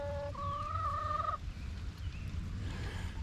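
A fowl calls in a wet chicken pen on a homestead, a single drawn-out, tonal gobbling crow lasting about a second, fairly close over a low rumbling outdoor background, followed by faint scattered bird sounds.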